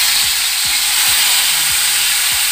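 Tandoori-style grill chicken fries in an open pan, giving off a loud, constant close-up sizzle with small crackles and pops throughout.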